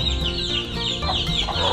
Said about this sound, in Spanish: tienen pollitos, ¿ves?